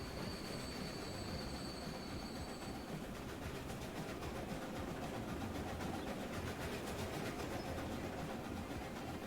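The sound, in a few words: passenger train passing in Transport Fever 2 video game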